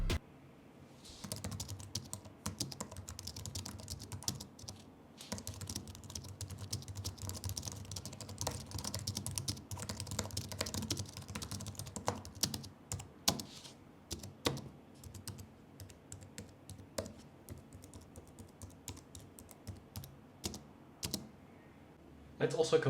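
Fingers type on regular keyboards and a chiclet-style Mac keyboard in turn, producing close, rapid bursts of key clicks separated by brief pauses.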